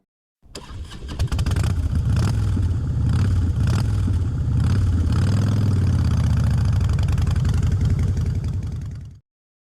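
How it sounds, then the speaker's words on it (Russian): Motorcycle engine running steadily near the listener, a continuous throbbing mid-pitched drone with slight revving swells over about nine seconds, with no voices. "Мотоцикл."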